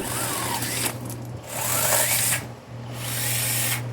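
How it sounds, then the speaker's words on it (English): A mini chainsaw motor whirs close and loud, revving in high buzzing surges over a steady low hum. "Or you can also get the mini chainsaw."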